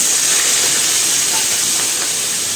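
Ginger and green chilies drop into hot oil already tempered with carom seeds and asafoetida, giving a loud, steady hiss of sizzling that holds evenly throughout while vegetable curry is cooked.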